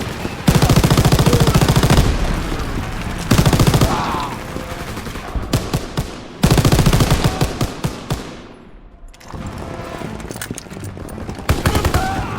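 Loud, close bursts of rapid automatic gunfire, sometimes continuous and sometimes broken by short pauses, in a chaotic World War II video game battle at Remagen, Germany, 1945.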